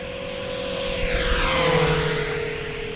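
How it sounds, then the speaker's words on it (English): Freewing de Havilland Mosquito RC twin-prop plane makes a fast powered flyby, its high motor whine swelling as it approaches and dropping in pitch as it passes and recedes, fairly loud and outdoors. "Now let me go ahead and light it up, give it some power, give you a fast flyby here."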